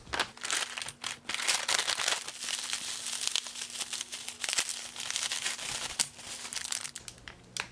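A delivered parcel is torn open at home, its plastic and paper wrapping crinkling and ripping in dense, busy bursts for several seconds, close and continuous with brief pauses between rustles.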